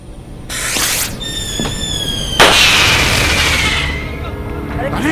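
Firecrackers go off in a Hindi film scene, with several sharp cracks, a loud burst near the middle and whistling, squealing streaks overhead, all close and busy against a noisy outdoor background.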